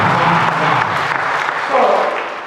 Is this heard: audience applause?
yes